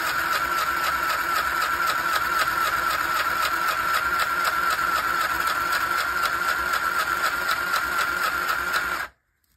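Mini sewing machine stitching under foot control, a fast steady mechanical whir with rapid needle clatter running continuously, then stopping abruptly near the end.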